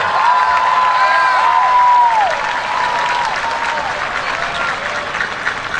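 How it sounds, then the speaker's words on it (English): At a Coffee County School System commencement, a large crowd applauds school employees, broad steady clapping filling the hall while a faint tonal whistle or feedback-like line glides over it early on. "let's everyone join me in giving them a nice round of applause"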